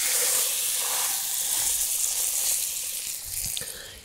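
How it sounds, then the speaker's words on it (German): Pork roast searing in a hot Dutch oven, a steady broadband sizzle and hiss that holds for about four seconds with no voices over it. "das als erstes anbraten."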